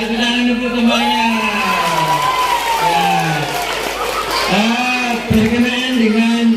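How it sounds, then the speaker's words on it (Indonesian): Schoolchildren in a classroom clapping for a classmate, with loud cheering and shouting voices riding over the claps, close and lively, the noise swelling again near the end. "tepuk tangan untuk temannya"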